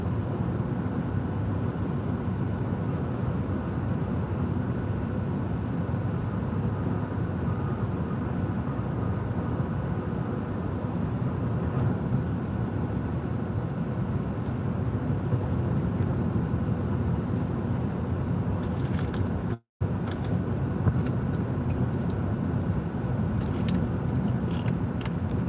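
Steady broadband road and wind roar inside a Lucid Air GT electric car cruising on the highway at 70 mph, continuous and even, with a brief dropout partway through and a few light clicks after.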